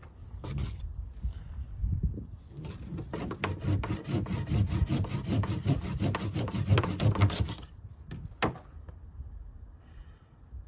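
Cotton roll being rubbed between wooden boards for friction fire, a steady rasping scrape of rapid back-and-forth strokes lasting several seconds, close and moderately loud.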